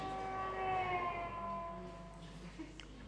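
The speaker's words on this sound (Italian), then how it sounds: "L'effetto Doppler è quello dell'ambulanza" An ambulance siren wailing with a Doppler shift, its tones sliding downward in pitch as it passes and fades, moderately loud with faint background noise.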